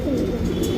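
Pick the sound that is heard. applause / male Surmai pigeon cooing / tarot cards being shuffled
male Surmai pigeon cooing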